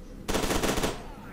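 Automatic gunfire bursts out in the F.E.A.R. 2: Project Origin video game: a loud, rapid, dense volley that starts abruptly and rattles steadily for about two-thirds of a second before fading into a low background hum.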